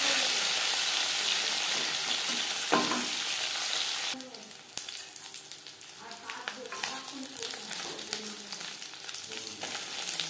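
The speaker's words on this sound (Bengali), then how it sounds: "মাছ একটা সাইড ভাজা হয়ে গেলে অপর সাইডটা উল্টে দেবো।" Katla fish pieces fry in hot oil in a pan, a dense bright sizzle that dominates at first, then quiets after a clatter as the fish is turned and settles into softer crackling and spitting.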